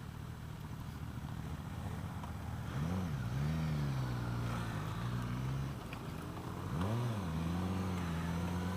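A 2016 Suzuki GSX-S1000 ABS motorcycle engine pulls away from a stop, revving up twice with rising, wavering pitch over a steady idle and wind rush, loud and close from the rider's position.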